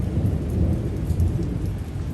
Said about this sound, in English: Maybe another downpour before I shut the video.